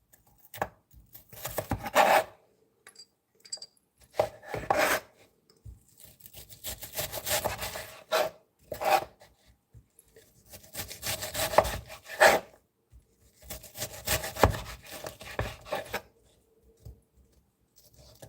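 A knife chopping and dicing an onion on a cutting board: quick bursts of close, crisp cutting strokes separated by short pauses.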